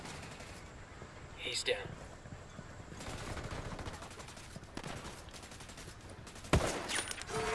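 Gunfire in Ghost Recon Wildlands, with bursts of shots and a sharp loud crack near the end over a busy game soundscape, with someone speaking briefly.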